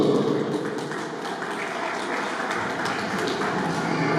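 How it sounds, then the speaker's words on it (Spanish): A small gathering at a baptism applauds, a steady wash of clapping that fills the whole moment without a break. "Un aplauso para él, un fuerte aplauso de aplausos."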